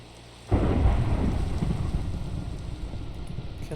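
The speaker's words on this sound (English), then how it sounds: "Can the lightning hit me down here?" A Minecraft thunderstorm: after half a second of quiet, a loud thunder crack rolls into a sustained rumble while rain patters steadily, with no voices.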